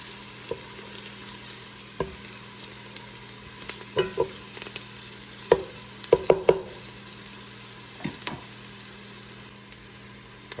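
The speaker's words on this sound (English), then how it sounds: "When you're sauteing onions, you want to make sure that you stir them quite often." Onions sauteing in a pan for a baked ziti sauce, a steady soft sizzle under scattered clacks and scrapes of a utensil stirring them, close and without talk.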